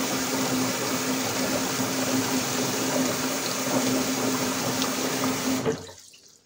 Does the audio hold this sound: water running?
yes